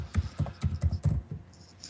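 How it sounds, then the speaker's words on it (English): Computer keyboard typing: a quick burst of clattering keystrokes, close and fairly loud, thinning out toward the end with no voices. "Who's typing?"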